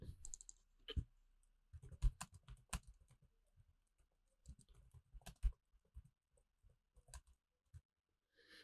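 Quiet, irregular clicking of fingers typing on a computer keyboard while entering text into a maths assessment, scattered taps and short bursts with no talk.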